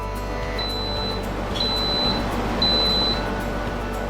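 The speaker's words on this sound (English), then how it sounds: "When the decompression is complete, you will hear 3 beeps." Three short, high electronic beeps evenly spaced from a Chef's Elite Marinator signaling completed decompression, sounding clearly over a constant low motor hum.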